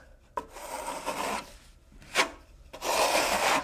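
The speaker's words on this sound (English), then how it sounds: "Now I'm taking my finish trowel and I'm going to lay it down just a little bit." A finish trowel is laid lightly against a plaster wall and smoothed across it, giving several soft, rasping scrape strokes, close and fairly quiet, with brief pauses between them and no talk.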